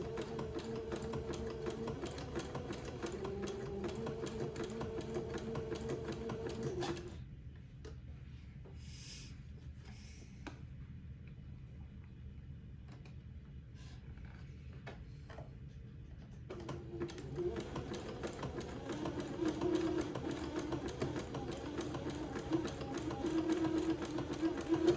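Sewing machine zigzag stitching lace onto fabric for a baby boy's garment, a fast steady whirring of needle strokes that pauses mid-run, then resumes, heard close at low level.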